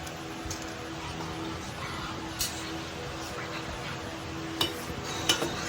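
Metal spoon scraping and clinking against a cooking pot while food is stirred and mixed, with a steady low background and a few sharper clinks, under a person talking.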